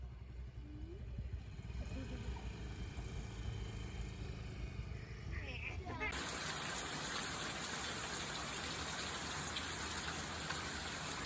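Heavy rain pours down in a dense, continuous hiss that swells louder partway through, steady and close, with faint low rumble beneath and no clear voices.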